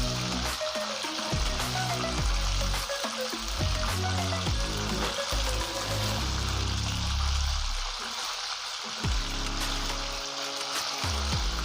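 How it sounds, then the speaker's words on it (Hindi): Chicken pieces fry in a pan with a steady, close sizzle, the oil crackling continuously with occasional stirring and shifting sounds layered over the hiss. "इस तरह से हम लोगों ने इस चिकन को फ्राई कर लेना है"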